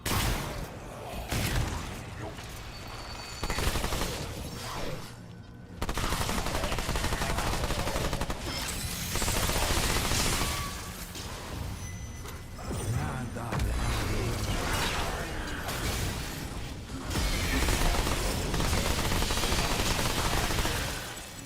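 An SMG in the game Remnant 2 fires in repeated rapid bursts over a long stretch, loud and close, with brief pauses between volleys and occasional mechanical clatter and whooshes.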